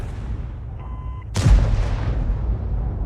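A heavy T92 HMC self-propelled artillery shot from World of Tanks: one sharp, loud boom with a deep low-end thump and a rolling decay, fired over a steady engine rumble.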